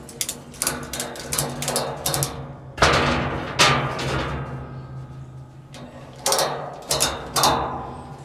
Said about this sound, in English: I'm going to take a ratchet strap across it somehow so I can lock it in place better